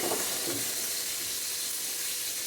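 Dried hilsa shutki frying over high heat in a pan with turmeric: a steady, loud, close oil sizzle and hiss that runs continuously without a break.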